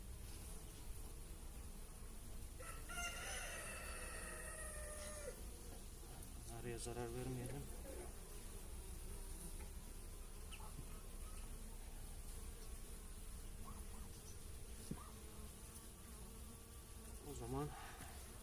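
Steady insect buzzing fills the background, a dense hum of many honey bees close by on hive frames, with faint voices and handling noises now and then.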